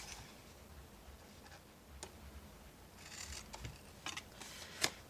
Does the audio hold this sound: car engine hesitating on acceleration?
no